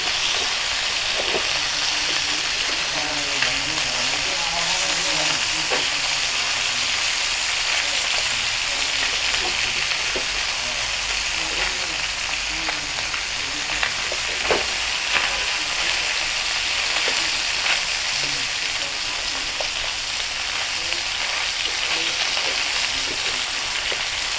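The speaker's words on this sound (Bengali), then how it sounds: "এখন লাল লাল করে ভেজে নিচ্ছি আমি" Food frying in hot oil in a pan until browned makes a dense, continuous close-up sizzle with crackling spatters throughout, no voices.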